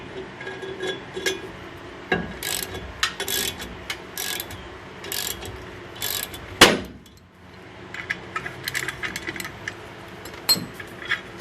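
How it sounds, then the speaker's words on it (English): Ratchet backing out screws on the rear brakes of a 2005 GMC, bursts of close clicking ratchet strokes with metallic clanks and a louder clunk midway, in an otherwise quiet garage. "I can probably back the screws out and get the rest of this off."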